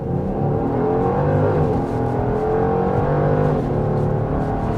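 Genesis GV70 SUV engine held at about 2,000 rpm with the brake on in Sport Plus mode, then launched, a close, steady rising drone with shifting engine tones and no talking.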